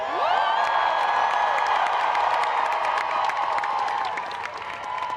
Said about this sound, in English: can we get a roaring cheer for Gotham FC real quick?